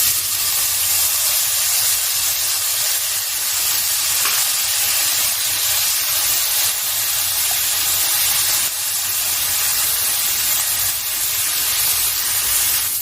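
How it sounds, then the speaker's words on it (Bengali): Steady, loud sizzling and hissing of prawns frying in hot oil in a wok, a constant crackling spray that continues unbroken throughout. "এবার আমি চিংড়ি মাছটাকে প্রথমে ভেজে নিচ্ছি"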